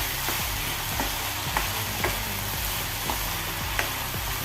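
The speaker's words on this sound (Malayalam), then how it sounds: "തേങ്ങ ചേർത്ത് കൊടുക്കാം ഒന്ന് ഇളക്കി കൊടുക്കാം" Jackfruit seed and spinach thoran with grated coconut sizzles in a pan under a steady hiss, with regular scraping strokes as a spoon stirs it.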